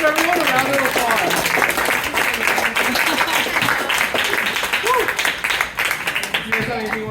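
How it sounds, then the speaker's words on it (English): A crowd at a DeSciNYC gene therapy event applauds loudly for several seconds, the dense clapping mixed with voices and cheering that carry on over it. "Let's give everyone a round of applause"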